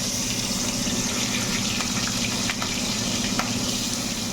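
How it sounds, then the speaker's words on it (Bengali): Prawns coated in turmeric and salt sizzle in hot mustard oil, a steady, close, bubbling hiss that carries on evenly without pause. "এটা আমি তেলের মধ্যে ছেড়ে দিচ্ছি।"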